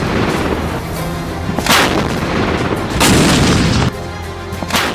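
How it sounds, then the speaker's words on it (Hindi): Indigenous howitzer guns fire a 21-gun artillery salute at India's Independence Day flag ceremony, loud booming shots with long rolling echoes, two or three big blasts in this stretch over a dense, sustained reverberant background. "76वें स्वतंत्रता दिवस पर हमेशा की तरह राष्ट्रीय ध्वज को 21 तोपों की सलामी दी गई।"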